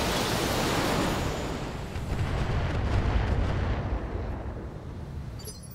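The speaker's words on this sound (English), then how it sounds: "Firing all weapons." Heavy mech weapons open fire all at once in the BattleTech video game, a dense, roaring wall of blasts and rumbling that swells and lingers for several seconds without any talking.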